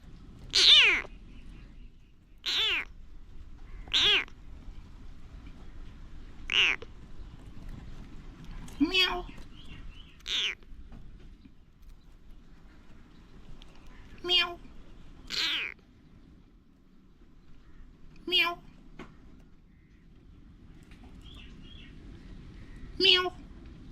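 A small kitten meows repeatedly in short, high-pitched cries spaced a few seconds apart, close by in a garden, over a quiet background.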